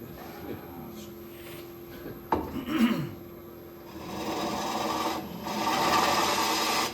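Japanese-style wood turning on end grain, a blade peeling wide shavings with rasping, rubbing scrapes that swell and fade over a low steady hum, near and without talk.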